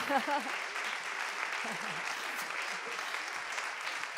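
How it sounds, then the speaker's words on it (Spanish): An audience at a culinary startup prize forum applauds for Iñaki Muñoz, sustained even clapping at moderate level, with a voice speaking briefly over the start. "Un aplauso para Iñaki Muñoz"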